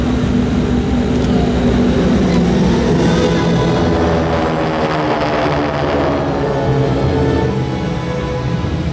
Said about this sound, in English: The flight leader maintains control of the six-ship formation as each member demonstrates sharpened skill levels to hold their position during maneuvers.